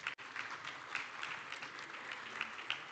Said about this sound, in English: let's also give our moderator, Shakwa Nyambe, a round of applause.